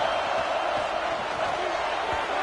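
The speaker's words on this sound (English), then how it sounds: "how nice is it to have the home crowd going absolutely bananas?" Home crowd at a Nebraska Cornhuskers game in College Football 26 roaring in a broad, sustained wash of stadium noise, with a voice talking faintly underneath.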